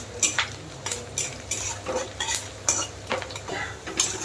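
A spoon scrapes and clatters repeatedly against a metal pan as chopped onions are stirred and fried, with irregular knocks every fraction of a second over a soft sizzle; nobody speaks.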